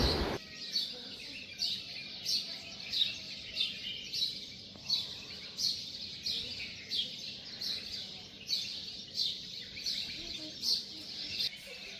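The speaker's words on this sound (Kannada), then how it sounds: "ಬೆಳಿಗ್ಗೆ ಬೆಳಿಗ್ಗೆ ಹಕ್ಕಿಗಳ ಸೌಂಡು ಕೂಡ ಸಖತ್ತಾಗಿತ್ತು" Birds chirp repeatedly in short, bright bursts throughout, fairly close and steady, in the morning at a farmhouse, over a quiet outdoor background with no talking.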